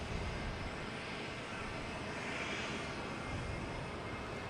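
An airliner readies for takeoff from Boston Logan Airport, its engines producing a steady, continuous roar with a broad hiss. The sound is unbroken and fairly distant, with no talking over it.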